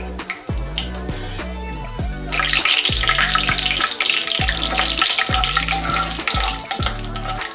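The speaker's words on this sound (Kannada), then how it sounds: "ಇದನ್ನ ಇದೇ ರೀತಿ ಎಣ್ಣೆನಲ್ಲಿ ಒಂದು 30 ಸೆಕೆಂಡು ಹುರ್ಕೊಳ್ಳೋಣ" Peanuts sizzle and crackle as they fry in hot oil in a pan, a loud, steady bubbling that swells after a quieter start, with rhythmic low scraping or stirring knocks throughout.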